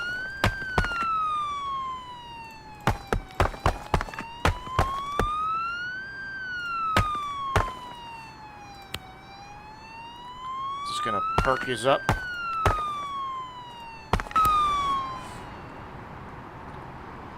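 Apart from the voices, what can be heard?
emergency vehicle siren in video game Global Rescue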